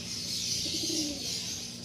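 A pigeon whose feathers have been coloured gives a single soft, low coo, faint beneath a steady hiss of outdoor noise.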